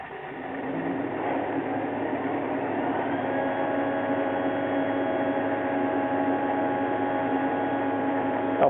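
The air conditioner of a Toyota Prius runs with a steady, even mechanical hum and whirring drone that holds constant throughout, with no voices.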